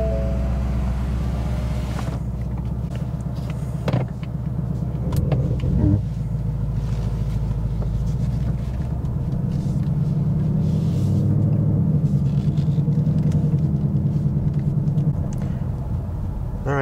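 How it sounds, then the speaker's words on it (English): A 2022 Ford Mustang GT Premium's 5-liter V8 fires up from push-button start, barking loudly before settling into a deep, steady rumbling idle with a few small revs. "We'll hear that 5-liter V8 come to life."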